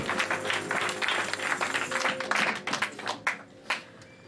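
Church congregation clapping and cheering in praise during a French-language service, a dense wash of applause with sharper claps and shouts rising toward the end.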